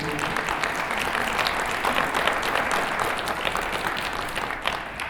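Audience applause at a fall jazz band concert, a steady wash of many hands clapping for several seconds, fairly even in loudness with no talk on top.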